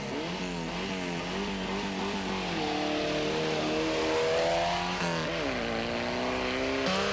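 Race car at the start of the 1988 Swazi Sun 500 rally, its engine loud and close as it accelerates away through repeated rising gear changes, strong and continuous.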